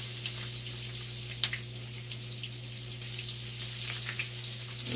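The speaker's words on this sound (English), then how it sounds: "We're going to fry it like bacon, hopefully." Daikon radish slices fry in a pan like bacon, giving a soft, steady sizzling hiss with a few faint pops over a constant low hum, quiet and without voices.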